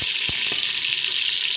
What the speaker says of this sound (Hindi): मैं तड़का लगा रही हूँ।